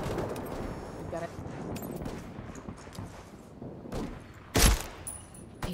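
Gunfire crackles through a firefight in Ghost Recon Wildlands, rattling bursts and distant shots under continuous radio-style voices, with one loud close impact near the end.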